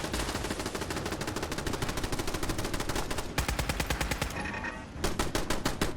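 Rapid, loud bursts of automatic gunfire from turrets and enemies during a Fallout 4 battle, a dense continuous rattle of shots with a brief pause near the end, then more firing.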